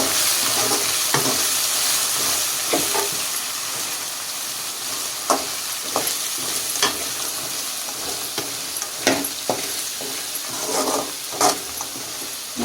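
Tamarind leaves sizzle steadily in an oiled frying pan while a spoon stirs and scrapes them, giving occasional sharp clinks over the constant hiss.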